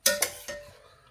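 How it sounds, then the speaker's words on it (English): Spoon clinks against a dish three times in quick succession while butter chicken lasagne mixture is scooped in, bright metallic taps close by with short ringing decay and no talk. "So I'm going to spoon the rest of the mixture"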